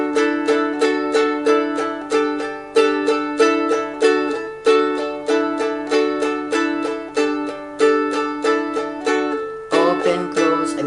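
A ukulele strums the chord progression of the Salvation Poem in a steady repeating pattern of bright chord hits, each ringing briefly before the next, with a livelier flurry of strums near the end.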